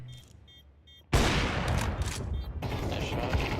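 A sudden burst of rapid gunfire from a bomb-defusal video game, dense crackling shots starting abruptly and rattling on continuously at close range.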